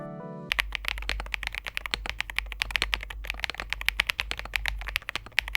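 Mechanical keyboard with Aqua Botany switches and Keytalk keycaps typed on steadily, a fast run of crisp, close keystrokes alone after a brief pause at the start.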